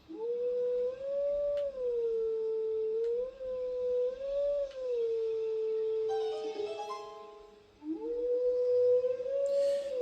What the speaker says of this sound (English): We must howl once more.